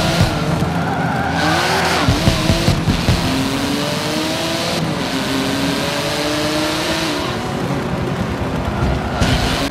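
Race cars in Forza Motorsport 7 roar loudly and continuously, engines revving and shifting pitch with tire squeal and skidding throughout the lap.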